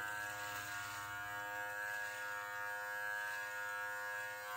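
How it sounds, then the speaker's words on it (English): An electric beard trimmer fitted with a 2 millimeter guard buzzes steadily and faintly close by as it cuts a beard, with a constant hum and no speech. "I'm going to take the 2 millimeter and I'm going to go up here and mow this down a little bit"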